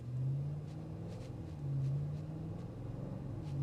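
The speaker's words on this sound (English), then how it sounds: "you're still gonna hear that exhaust note." A 2025 Audi SQ7 exhaust note heard while driving, a steady low droning rumble from inside the cabin that swells slightly twice, with no talk over it.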